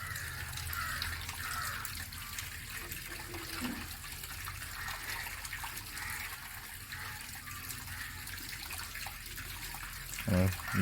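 A steady stream of water pours from a water filter, continuous and moderately close with a constant rushing hiss, and a brief thump near the end.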